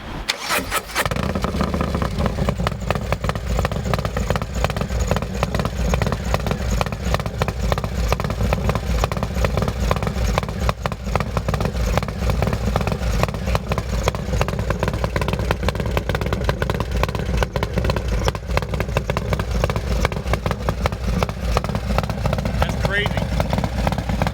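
A custom 2022 LRST Hell Diablo motorcycle with a 131 engine cranks and fires up, then runs with a loud, continuous, rough, clattering idle close by that lasts throughout.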